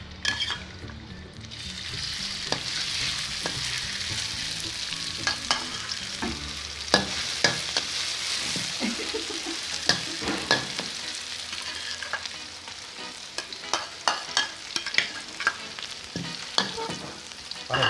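Curry paste sizzles loudly in a little oil as clams are stir-fried, with a steady hiss broken by frequent scrapes and clinks of a spatula against the pan.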